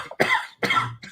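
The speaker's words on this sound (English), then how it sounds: "It's only when you laugh that you cough." Two sharp, close coughs in quick succession, loud and alone, with the start of a third cut short at the end.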